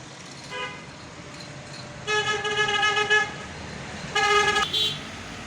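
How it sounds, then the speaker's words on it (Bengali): Busy road in Ashulia with traffic rumbling past and several sharp car horn toots, some short and some held, standing out loudly over the steady roadway noise. "দেখতে পাচ্ছেন একেবারে ব্যস্ত রাস্তা"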